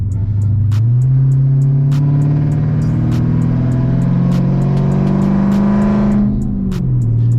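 A car engine revs up in sport mode during a test pull and holds a loud, rising drone, with sharp ticking clicks over the top before the revs drop back down.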